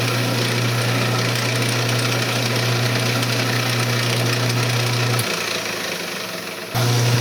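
A wood lathe runs steadily with a loud constant hum while a myrtle wood vase is polished, the tone dropping briefly as the speed changes before returning at full level, with no talking.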